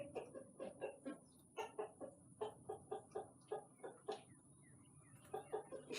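A rooster clucks outdoors near a forge, giving rapid bursts of short clucks in uneven clusters, fairly faint and distant against a quiet background without speech.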